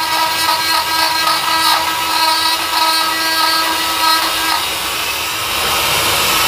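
A rotary tool fitted with a drill bit whines steadily and close up while carving wild olive wood, its high buzzing pitch wavering slightly as it cuts.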